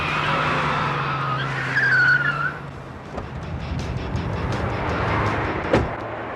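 A car slows on a road with a loud tire skid and rumbling engine, then rolls to a stop by the roadside amid road noise and a few light knocks.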